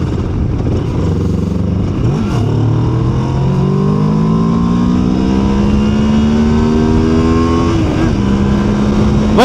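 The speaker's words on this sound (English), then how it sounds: "acceleration and feel of this motor is freaking amazing" A 2026 Moto Morini X-Cape 700 motorcycle accelerating hard on the road, its engine note climbing steadily through several gears with brief dips at each shift, recorded close from the rider's position with wind rush underneath.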